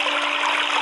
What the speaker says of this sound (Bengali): ভেতরে পানি পড়ার শব্দ হচ্ছে।